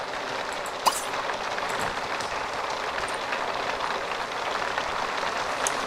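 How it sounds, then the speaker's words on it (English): Hail falls in the life-simulation game The Sims 3 Seasons, a dense steady patter like heavy rain on a surface, with one brief sharp tick early on. "It's hailing in the summer."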